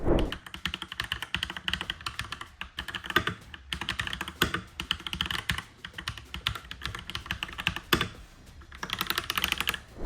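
Continuous rapid typing on a Redragon Garen Pro K656 mechanical keyboard, close and crisp, with dense clacking keystrokes, brief pauses and occasional heavier bottom-out thocks.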